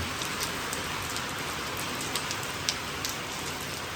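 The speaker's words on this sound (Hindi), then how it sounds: "अच्छी दरमियानी बारिश है माशाल्लाह से।" Steady, moderate rain falls continuously in a Pakistani village after a thunderstorm eases, with scattered droplets pattering on a surface and no voices.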